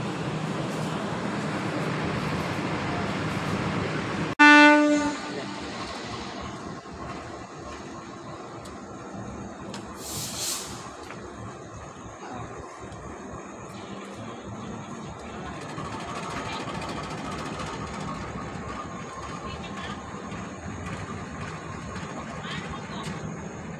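A Harina passenger train running from Bandung to Purwakarta gives one short horn blast partway through. Loud rolling rumble comes before it, and steadier running noise continues after.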